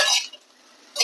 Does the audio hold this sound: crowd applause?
no